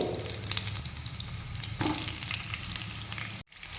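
Chopped tomatoes fry in oil in a pan for a pomfret fish curry, giving a steady close sizzle with stirring scrapes. The pan goes briefly quiet near the end, then the sizzle resumes.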